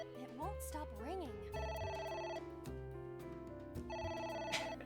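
An electronic telephone ringtone repeats in the video game AI: The Somnium Files, a bright, melodic trilling ring sounding in bursts over game music with swooping tones, fairly quiet in the mix.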